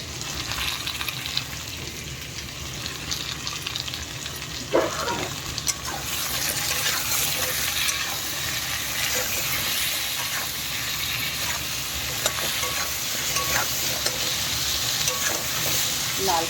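Potatoes with salt fry in a hot pan, giving a loud, steady hiss and crackle with occasional stirring scrapes, close and continuous throughout.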